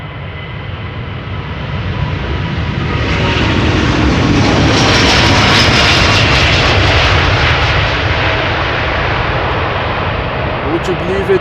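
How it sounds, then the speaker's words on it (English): A Delta Airbus A330neo departing Schiphol for Boston: jet engine roar builds over the first seconds into a loud, close, sustained blast with a rising whine, then eases slightly while staying strong to the end. "Delta now is also departing to Boston. Flight 243, A330neo."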